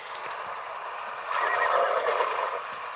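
Shiny, color-changing Equus horses in a video game whinny repeatedly, with a louder neigh swelling through the middle, heard close and alone over a steady hiss with faint hoof-like clops.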